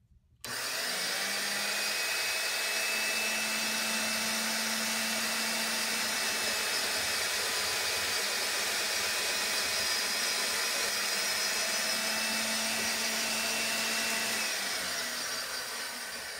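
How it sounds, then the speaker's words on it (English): A Black & Decker 1/2 inch heavy duty drill mounted in a drill stand bores into wood at about 600 RPM, a steady whining motor hum held for many seconds, close and loud, winding down at the end. "we're just gonna take a quick drill"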